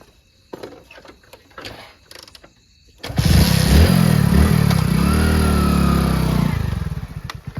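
A motorcycle engine suddenly starts up loud and close after a stretch of quieter noises, holding a steady rough roar for several seconds before easing off at the end.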